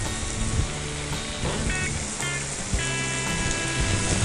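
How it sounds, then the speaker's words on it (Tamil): Stuffed brinjal (eggplant) frying in oil in a pan, giving a steady, close, continuous sizzle and crackle with no talking. "நல்லா ஃப்ரை ஆகிடுச்சு."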